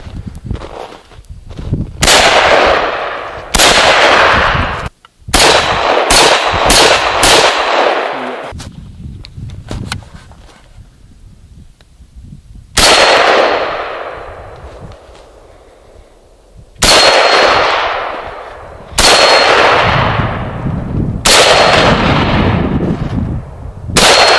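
A Norinco M305, an M14-pattern rifle, fires about a dozen loud, sharp gunshots, some in quick bursts and others spaced several seconds apart, each cracking hard and trailing into a long echoing decay outdoors.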